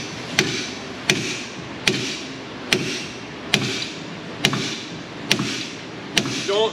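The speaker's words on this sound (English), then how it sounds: "Get some bigger impacts here with the larger hammer." A larger hammer strikes metal on a 1994-2004 Ford Mustang GT, eight evenly spaced sharp blows about a second apart, each a bright clank over steady background noise.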